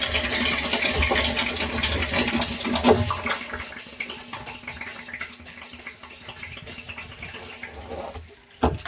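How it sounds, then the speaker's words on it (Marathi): Fertilizer-laced well water runs out of a nearly empty tank in a maize field, a steady close broadband rush and gurgle that thins toward the end as the last of it drains, with a brief splash near the close. "आता आपली टाकी संपणार आहे. आता पहा थोडंसं पाणी राहिलं."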